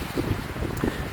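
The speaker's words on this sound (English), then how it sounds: "we'll wrap this video up because it's getting a little windy" Outdoor wind buffeting a microphone in a steady broadband rumble, with a few brief louder gusts over roughly a second.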